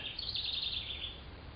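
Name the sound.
wrens and other birds chirping outside a barn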